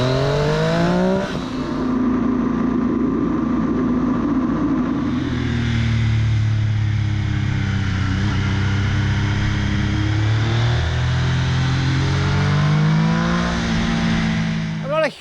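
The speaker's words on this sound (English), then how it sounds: "I like the way the engine revs up" A 2018 Triumph Street Triple R three-cylinder motorcycle engine revs hard and continuously, its pitch climbing and falling through several surges, loud and close, with a brief blip at the end.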